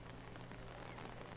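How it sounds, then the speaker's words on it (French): Steady rain falls in the video game Book of Travels, a dense even hiss of drops pattering on surfaces, constant and fairly soft with no voices. "Alors déjà il pleut, c'est génial."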